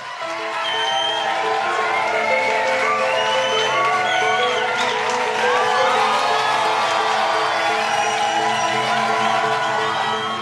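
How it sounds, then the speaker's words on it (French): A large crowd cheers, whoops and applauds nonstop as Bernard Tapie arrives, a dense roar of clapping and shouting that stays loud and close from start to finish. "dès qu'il arrive, les gens applaudissent"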